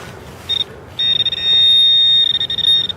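A metal detector sounding over a hairpin found near the surface outdoors, a short electronic tone followed by a longer sustained warbling beep with a choppy, stuttering edge.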